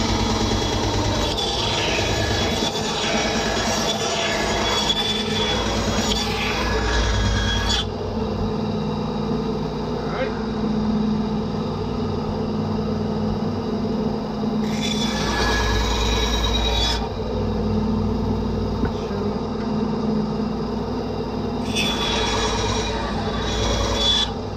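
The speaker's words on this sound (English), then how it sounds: "the best way I've found to do that is to use the old bandsaw here" An old bandsaw cuts apart homemade fire starters, a loud continuous machine hum with rasping cutting passes that come and go in several bursts over about twenty-five seconds, with no talking.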